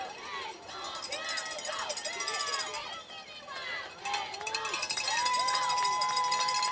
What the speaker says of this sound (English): Great crowd here for the Bombers.